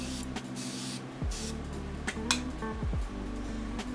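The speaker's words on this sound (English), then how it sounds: "And it is a powerful spray." Facial setting spray misting from a pump bottle during a makeup application, several short hissing bursts at close range with faint clinks between them.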